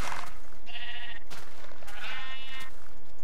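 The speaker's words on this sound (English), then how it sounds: "I hear another sheep." Two nasal Minecraft sheep bleats, each about a second long, over a steady bed of game ambience and background hiss.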